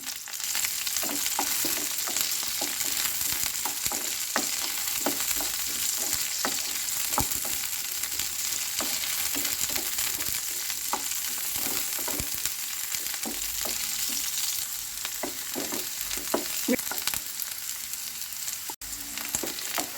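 Okra pieces frying in hot oil in a pan give a steady, close, continuous sizzle, broken by frequent small crackles and stirring scrapes throughout.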